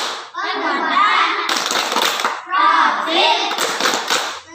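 Children in a classroom clap out a rhythmic chant, with bursts of hand claps and young voices chanting together, repeated in two phrases close to the listener.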